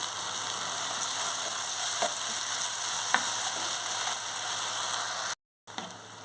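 Onions frying with tomato and green chili paste in a pan, a steady loud sizzle with a few faint stirring clicks, uninterrupted apart from one short cut near the end.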